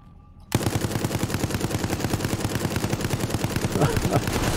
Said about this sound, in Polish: tu na powitanie moglibyśmy sobie odpalić pistolet maszynowy